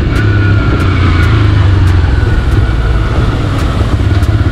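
A TVS Raider 125 cc motorcycle engine runs with a steady, loud droning hum and faint rhythmic ticking, sustained and close throughout without any voices.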